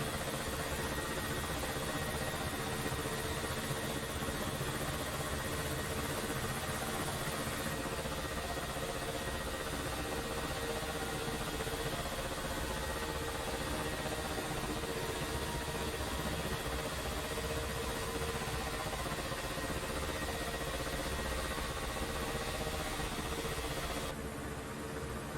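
Ka-50 helicopter right engine spooling up in the DCS flight simulator, a steady droning hum and whine held at an even level for the whole stretch, with no talking.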